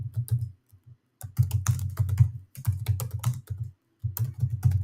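Folder name being typed on a computer keyboard, with close, crisp clusters of key clicks coming in quick bursts separated by short pauses, and no voices.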